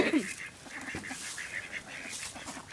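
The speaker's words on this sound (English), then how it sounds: "So there's the ducks" Mallard ducks quack and honk in short bursts, a few calls close by over a hissy outdoor background.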